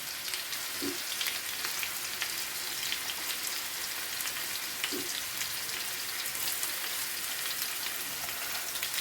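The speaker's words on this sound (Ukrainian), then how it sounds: "Ось так смажуться мої котлетки." Steady crackling sizzle of stuffed chopped chicken cutlets frying in a pan, continuous and even throughout, with no voices.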